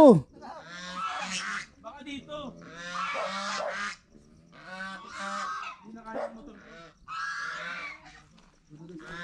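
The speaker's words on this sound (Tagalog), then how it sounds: "Nangahabol yung pato." Loud, repeated honking from ducks in bursts as they give chase, close by in Pangasinan, with a person speaking briefly between calls.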